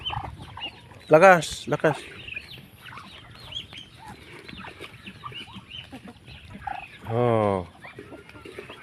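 Chickens on a tropical farm, close, loud squawking clucks in two bursts, with softer clucks and chirps between and a person speaking briefly.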